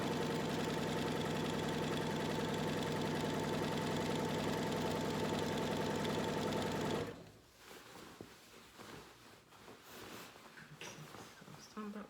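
A quilting sewing machine runs at half speed with a rapid, steady mechanical chatter for several seconds, then stops abruptly, leaving quiet room noise.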